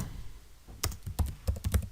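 Computer keyboard typing a short macro name into Microsoft Access, a quiet start followed by a quick burst of separate clicking keystrokes, close and fairly loud.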